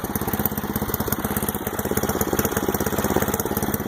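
A 1978 Craftsman RE2000 riding mower engine runs steadily at close range, a rapid, even chugging putter with a buzzy mechanical edge and no talk.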